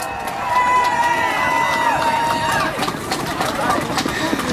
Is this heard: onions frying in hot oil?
no